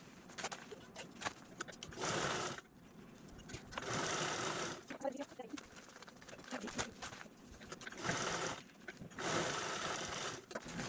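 A sewing machine stitches the cloth base of a shoe organizer made from old clothes, running in several rapid, clattering bursts separated by short pauses, with pigeons cooing faintly in the background.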